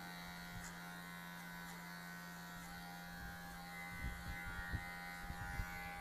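An electric hair clipper buzzes steadily while cutting a drop fade haircut, a constant close whine with soft irregular scraping strokes toward the end and no speech.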